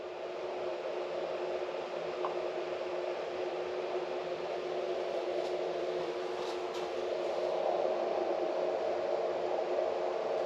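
The small vacuum pump in an xCool 3-in-1 laser level's wall suction mount runs as a steady, close whirring hum that gets slightly louder about three-quarters of the way through.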